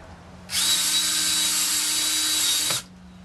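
A power drill driving screws into vinyl J rail siding trim, one steady high whine lasting about two seconds, close and loud, then stopping abruptly with no talk.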